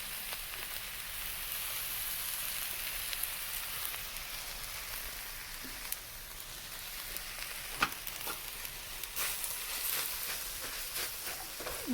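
A cabbage and carrot mix for mu shu chicken sizzles steadily in a hot pan, a soft continuous crackle with occasional small pops and no voices.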